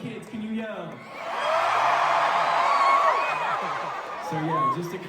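A live concert crowd at a show yells and whoops loudly, a sustained roar of many voices swelling and holding for several seconds, with a voice on the PA at the start and end.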